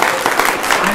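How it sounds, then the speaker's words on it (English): A round of applause for award winners at a spring graduation reception, dense and steady clapping from a crowd in a room, continuous through the brief moment without speech. "let's give the award winners tonight first a round of applause"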